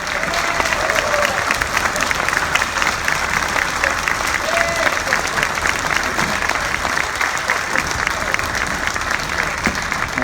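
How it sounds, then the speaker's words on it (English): Loud, sustained audience applause at a tribute concert, dense, continuous clapping from a large crowd lasting about ten seconds, with occasional cheers and crowd noise beneath it. "give these guys a round of applause"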